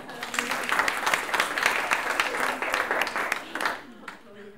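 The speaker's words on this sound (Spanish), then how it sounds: "Un aplauso." A room of attendees at an e-commerce talk breaks into applause, a burst of clapping that swells and then thins out toward the end, with a voice briefly audible as it dies down.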